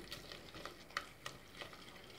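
Milk is stirred bit by bit into a butter and flour roux in a pan, giving faint, soft, irregular scraping and sloshing strokes that are quiet and close.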